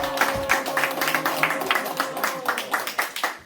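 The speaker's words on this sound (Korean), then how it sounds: "자, 박수로 한번 해주십니다" Applause from a congregation at an evening service of a church family retreat, steady clapping under a lively room with voices mixed in.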